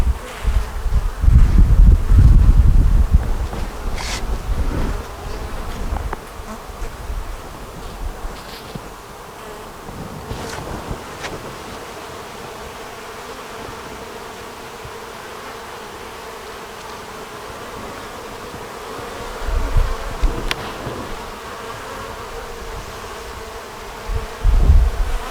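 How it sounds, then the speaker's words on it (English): Honeybees buzzing around hive frames during an inspection, a steady insect drone throughout with occasional low handling bumps and rustles nearby. "Feeding all these here bees."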